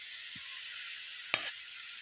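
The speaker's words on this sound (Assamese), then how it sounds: "এতিয়া মাংস আৰু কবিটো ভাজিছোঁ" Meat and cabbage frying in a pan for chicken chow mein, a steady faint hiss with a single short scrape of stirring near the end.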